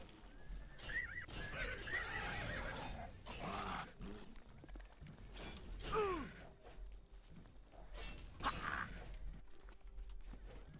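A horse in Elder Scrolls Oblivion whinnies and snorts several times, with a soft clip-clop of hooves and faint background noise between the calls.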